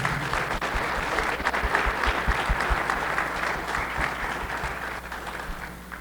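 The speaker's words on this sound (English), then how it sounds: "Let's clap it up for him one more time." An audience at the Rialto Sports Hall of Fame 2024 ceremony applauds an honoree, steady dense clapping from many hands that holds strong for several seconds and slowly fades, with no talk over it.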